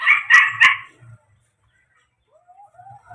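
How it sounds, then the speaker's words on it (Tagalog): A dog gives two or three quick sharp barks close by, then falls silent with only faint thin sounds afterward. "Kasama ko dito ang aso eh."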